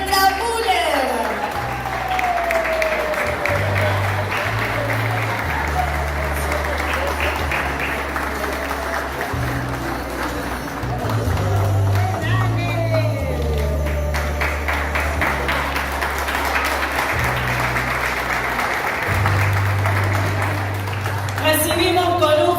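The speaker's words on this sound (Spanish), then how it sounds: "Recibimos con un fuerte aplauso a la secretaria de Cultura, Turismo y Deporte, Alejandra Müller." A crowd at a local public event applauds to welcome the secretary of culture, tourism and sport: sustained, loud clapping over background music, with a voice heard through it.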